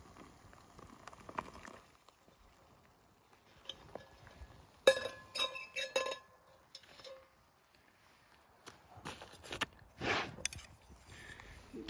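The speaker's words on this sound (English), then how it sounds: "Give it a little stir." A spoon stirs and clinks against a container on a trail camp, giving a few sharp metallic taps in short bursts over a quiet, faintly windy outdoor background.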